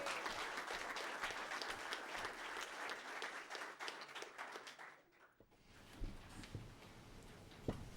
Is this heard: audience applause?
yes